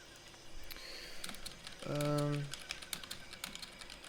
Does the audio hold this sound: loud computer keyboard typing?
yes